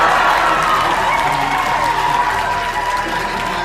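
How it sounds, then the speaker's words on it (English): A packed room erupts in sustained applause and excited cheering after a space mission announcement, with dense clapping and shouting voices continuing without a break at close range. "everybody jumped out of their seats and was screaming and cheering"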